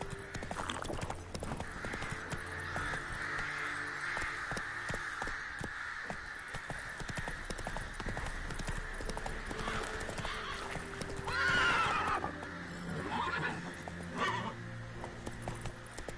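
Geralt's horse Roach in The Witcher 3, hooves clip-clopping at a steady pace beneath game ambience and music, with a brief whinny near the end.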